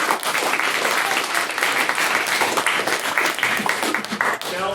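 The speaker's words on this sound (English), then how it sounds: "an applause for her" A debate-hall audience breaks into loud, sustained applause for a speaker's maiden speech, dense clapping continuing evenly throughout with a few faint voices beneath.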